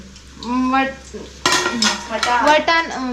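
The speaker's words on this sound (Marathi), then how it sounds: "आता इथे वरण वाढलं जात आहे" Dal is ladled and served at a home haldi kunku gathering, with clinking utensils and clattering dishes that get busier partway through, while voices carry alongside.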